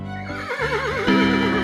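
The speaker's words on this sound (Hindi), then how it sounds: "घोड़े के पीठ पर सवार होकर" A horse gives one loud, close, wavering neigh that climbs and trembles, with faint hoof clatter under it and no talking.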